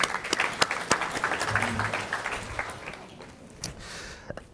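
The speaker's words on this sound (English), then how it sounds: "So give a big round of applause for Tim, please." A conference audience applauds a speaker at a tech industry talk, a modest burst of scattered clapping with some louder individual claps that tapers off into room quiet.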